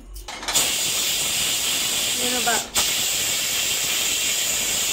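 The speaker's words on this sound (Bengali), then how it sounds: "প্রেসারের ঢাকনিটা খোলা হচ্ছে, দেখি কতটা সিদ্ধ হলো।" Steam hisses loudly and steadily as a pressure cooker lid is opened after boiling chickpeas for chana masala, a broad continuous rush that briefly dips and surges again near the end.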